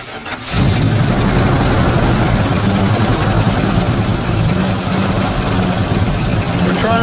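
An abandoned truck's engine, freshly repaired with a new fuel pump feeding the carburetor, catches and settles into a steady, loud, even idle that runs close by without a break.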